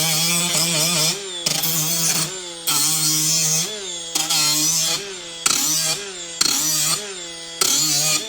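A lightweight power tool, lighter and less aggressive than a 4.5-inch angle grinder, deburring metal parts for a homemade hoist, whirring loudly and steadily in repeated bursts with short pauses between passes.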